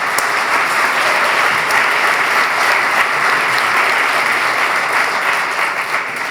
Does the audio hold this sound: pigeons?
no